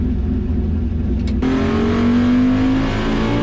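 A turbocharged car fitted with a VS Racing 78 mm turbo, tuned with Holley Terminator X, revs hard up close, the engine note jumping sharply and then climbing steadily in a loud, sustained pull.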